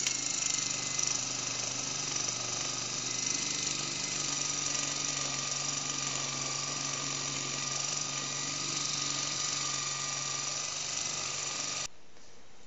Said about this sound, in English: now I'm just using the drum sander to take some of these ridges away